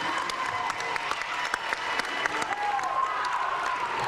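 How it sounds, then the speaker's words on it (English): A crowd applauds steadily at a high school volleyball match, many hands clapping in a dense, continuous patter that holds the whole time. "would you please show your appreciation to our officials today with a round of applause."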